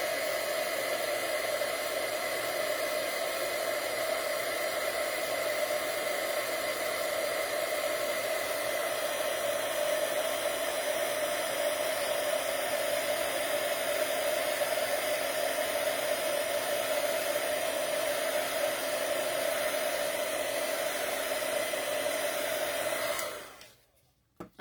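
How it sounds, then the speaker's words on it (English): A heat embossing tool blows a steady, loud whoosh of hot air to set embossing powder during card making, running unbroken for more than twenty seconds before cutting off abruptly near the end. "hold tight for about 30 seconds while we set this with the heat tool"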